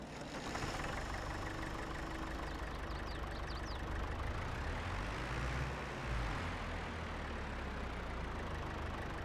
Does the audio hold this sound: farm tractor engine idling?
yes